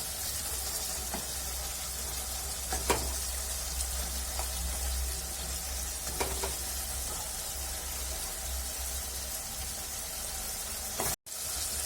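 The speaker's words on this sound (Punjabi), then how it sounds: "ਪਿਆਜ਼ ਨੂੰ ਬਰਾਉਨ ਹੋ ਚੁੱਕੇ ਨੇ ਤੜਕਾ ਬਣ ਚੁੱਕਿਆ ਤੜਕੇ ਨੇ ਘੀ ਵੀ ਛੱਡ ਦਿੱਤਾ ਹੈ" Browned onion tempering sizzling in ghee for methi and potato sabzi makes a steady, close crackling sizzle with occasional light spoon taps, and no one speaks.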